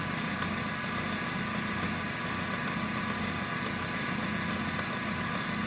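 A car engine idles steadily at 850 RPM during a distributor and cam position sensor signal check, a continuous low, even hum with no speech over it.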